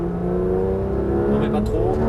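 A Porsche 991 GT3 RS on the Le Mans circuit near Maison Blanche, its engine droning steadily and loudly from inside the car as it accelerates, with a few faint higher tones near the end.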